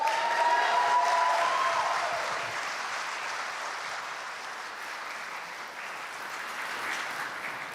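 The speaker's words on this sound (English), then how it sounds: "So please give them a big round of applause." Audience applause at a horror game awards show, a dense wash of clapping that is loudest at the start and then eases into a softer, sustained patter, heard with no talking.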